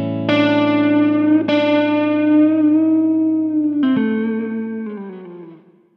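Electric guitar run through effects playing the interval of a fourth: a few sustained, distorted notes with chorus-like shimmer, each picked note ringing out and slowly fading, loud and close with no talk.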